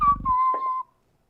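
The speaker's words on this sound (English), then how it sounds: "where's that whistling coming from?" A person whistles one sustained, slightly wavering tone up close, lasting just under a second before it cuts to silence.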